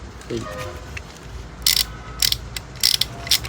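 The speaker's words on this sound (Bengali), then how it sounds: "এটা র্যাচেট প্লাস টর্ক রেঞ্চ ঘুরে।" Ratchet clicks from a Japanese 1/2-inch drive ratchet torque wrench taken from an old ship, heard in several short bursts of rapid clicking, close and fairly loud over a quiet background.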